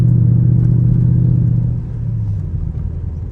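A fully customized Mercedes CLS engine and exhaust rumbles loudly and close up, holding a steady deep drone that eases slightly partway through, with no talking over it.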